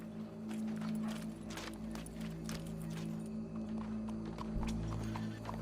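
Steady clip-clopping of horse hooves in Red Dead Redemption 2, a continuous rhythmic trot over a low ambient drone with faint background activity.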